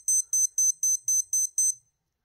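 A Timex Ironman Triathlon Essential running watch gives seven short, shrill beeps at an even, quick pace, close and clear, and then goes silent.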